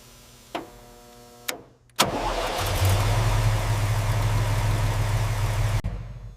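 A 1969 Chevrolet Camaro Yenko SC engine cranks over after a couple of short clicks, catches with a loud burst, then settles into a steady, rumbling close-up idle before cutting off abruptly.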